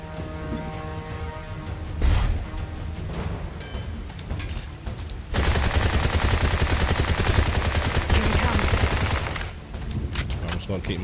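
Sustained rapid gunfire from a boss fight in the video game Bright Memory, loud and dense, with a burst near the start and a long unbroken barrage through the middle, layered over game sound effects.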